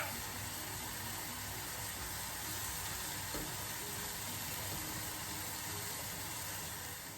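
Onions and oil sizzle steadily in a pan for a pepper sauce made from dried peppers, a continuous frying hiss at moderate level with one faint knock partway through and no talking.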